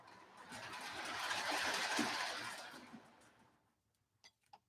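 A B&A Hudson model steam locomotive runs on a model railroad, a soft rushing chuff that swells over about two seconds and then fades, followed by a few faint clicks.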